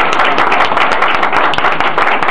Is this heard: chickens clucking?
no